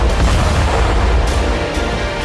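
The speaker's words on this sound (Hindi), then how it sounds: "धमाके के बाद उठा आग का गुब्बार, ब्लास्ट की आवाज से दहले शहर" A blast in Khmelnytskyi during the Russia-Ukraine war booms with a deep, sustained rumble that fills the air, loud and heavy with a few sharper bursts in it.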